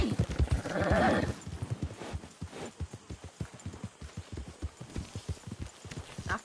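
Horse hooves clip-clop in a steady, close rhythm in the video game Red Dead Redemption 2, with a brief louder swell near the start and no speech.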